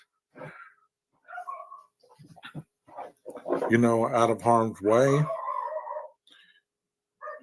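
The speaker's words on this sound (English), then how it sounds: "There's that damn dog again, bro." A dog barks and whimpers in short yelps and drawn-out whining cries, fairly close, mixed in and alternating with someone talking.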